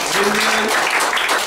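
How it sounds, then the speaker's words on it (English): A congregation claps together at an evening Christian church service. The applause is dense and steady throughout, and a single voice speaks briefly over it. "Just give a big clap offering."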